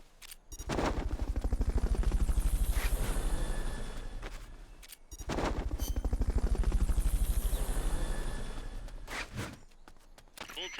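A Fulton recovery helicopter in a video game makes two long swelling passes of loud, rapid rotor thumping, each rising and fading over about four seconds, with a short gap between them.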